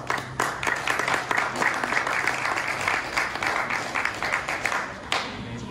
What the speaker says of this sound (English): So we can give our sponsors all around an applause.